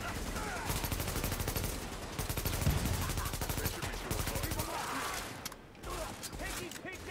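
Rapid automatic gunfire in the video game The Division, dense and continuous bursts close up with a voice speaking underneath.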